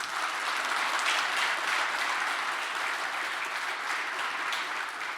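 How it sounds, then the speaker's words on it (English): An audience at a technology keynote gives a sustained round of applause, dense and steady clapping filling the room for several seconds without a break. "can we give him a round of applause?"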